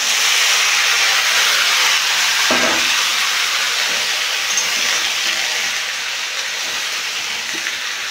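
Chopped mixed vegetables hit hot oil in a pan for a vegetarian curry, giving a loud, steady, broad sizzling hiss with a brief thud near the start, gradually settling.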